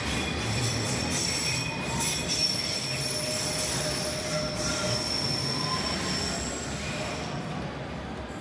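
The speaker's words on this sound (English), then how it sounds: "I apologize for this squealing of the trains." London Underground train wheels squealing on the District and Circle line: continuous high-pitched metallic screeching over a steady rolling rumble, moderately loud and close, lasting throughout with no speech.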